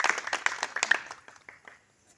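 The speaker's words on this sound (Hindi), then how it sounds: "जोरदार ताली दियौ।" A crowd at a community gathering claps in a brief burst that thins out and fades to a few scattered claps, moderately distant.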